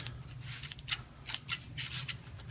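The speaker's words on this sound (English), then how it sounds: "Now I wonder if I need scissors or something to open this guy." Scissors snip repeatedly through packaging while unboxing a Miktek ProCast STT podcast studio on a desk, giving a string of close, crisp cuts and rustles in an irregular rhythm.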